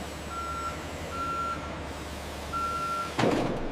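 Reversing beeps from a truck being loaded with finished plastic chairs at a recycling factory, three evenly spaced steady tones over a low engine idle, ending with a sharp hiss of an air brake.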